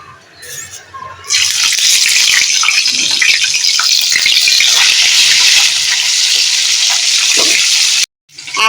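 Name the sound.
fish head frying in oil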